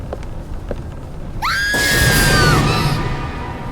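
A piercing scream from behind a closed door in the video game Black Sails, rising sharply and then holding a long, wavering wail for about a second before trailing off over a low ambient hum.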